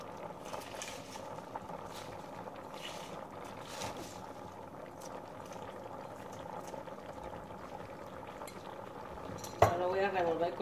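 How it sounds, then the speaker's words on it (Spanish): A pot of chicken with chickpeas and spinach is stirred slowly and carefully, giving a steady, soft bubbling and scraping bed, with a few sharper clinks of the utensil against the pot near the end. "Lo voy a revolver con mucho cuidado."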